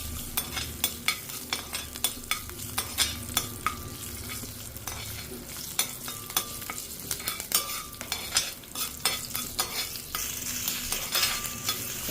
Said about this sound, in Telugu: కొంచెం అంతా కరివేపాకు మంచిగా వేగాలన్నమాట